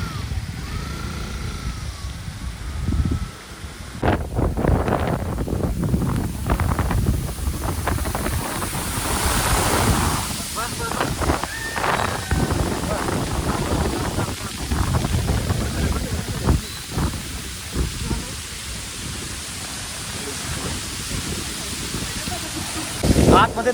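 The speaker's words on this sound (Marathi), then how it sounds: "आतमध्ये तुफान वारा आहे, छत्री उडून जाण्याचा काही चान्स नाही आहे." Strong gusty wind blows through a tunnel near Ozarde waterfall at Koynanagar in the Sahyadri hills, roaring and buffeting the microphone in uneven bursts throughout, loud and close, with no one speaking.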